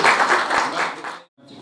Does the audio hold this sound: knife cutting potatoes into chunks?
no